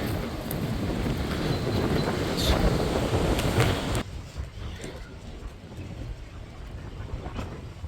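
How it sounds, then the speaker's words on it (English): Strong gusts in Tulsa buffet the microphone with loud, roaring rumble for several seconds, then ease to a lighter but still steady wind noise. "So windy."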